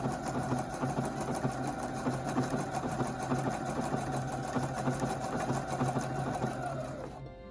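A sewing machine stitches fabric in a steady, rapid mechanical whir that runs close and loud without pause, then winds down and stops near the end.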